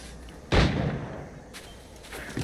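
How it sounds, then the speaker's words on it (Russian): A single gunshot in Assassin's Creed 4: Black Flag sounds as a sharp, fairly loud crack with a short rumbling tail over quiet game ambience, followed by fainter distant thuds. "Так, выстрел был, кстати говоря,"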